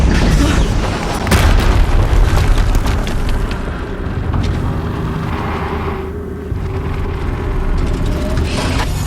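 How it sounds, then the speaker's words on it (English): Heavy booming explosions rumble through a Horizon Zero Dawn game scene, a loud deep blast followed by long rolling roar and debris-like crackle, with a second burst near the end. "Another explosion."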